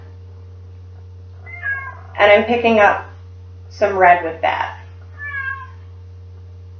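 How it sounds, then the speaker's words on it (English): A pet cat meows a few times from somewhere nearby, short tonal cries surfacing between a woman's speech while she paints, with a steady low hum in the background. "can you hear my cat meowing?"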